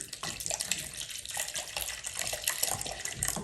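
Tap water runs steadily into a measuring jug during acrylic paper marbling preparation, a continuous close splashing gush that lasts throughout without talk.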